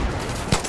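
Gunfire from a basic starting pistol in the video game Far Cry 6, heard as a brief dense burst of shots over steady game background noise, with a sharper crack near the end.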